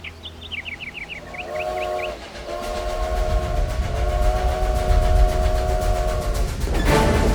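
A steam train whistle sounds with chugging rail rumble building underneath, preceded by chirpy whistled notes; the loud, continuous rolling noise fills the background.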